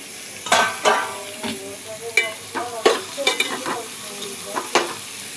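Cut ridge gourd pieces stir and fry in a pan with turmeric and ginger, giving a soft sizzle punctuated by a series of close, irregular scraping and clinking stirs, with no voices.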